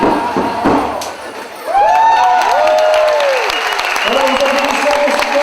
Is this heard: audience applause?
yes